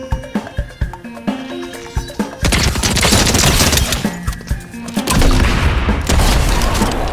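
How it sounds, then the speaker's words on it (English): Snowball launcher in a video game firing and exploding, first a run of sharp rhythmic shots, then dense booming blasts that swell into a sustained roar before another loud burst near the end. "I killed him with the snowball launcher"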